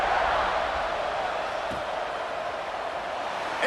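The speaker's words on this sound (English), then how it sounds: "this crowd is buzzing after that last score" A stadium crowd in the EA Sports College Football 26 video game keeps up a steady, dense roar of buzzing noise after a score, broad and unbroken with no clear individual voices.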